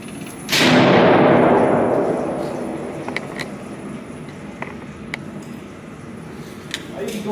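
A single loud, close gunshot from a 7.62 AR pistol with a 5-inch barrel cracks out outdoors, then rolls into a long reverberant decay, followed by faint scattered clicks and distant pops.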